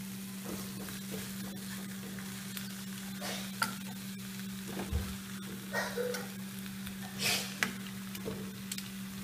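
Chicken returned with its juices to a frying pan of orange sauce, a soft steady sizzle with occasional stirring scrapes and light clicks over a constant low electrical hum.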